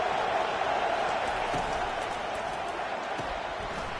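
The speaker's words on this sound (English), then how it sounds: "And here comes the noise. This crowd is trying to inspire this defense to make a big red zone stop." A loud stadium crowd roars at a college football game between Ole Miss and Tennessee as fans push the defense for a red zone stop, a sustained wash of cheering and noise.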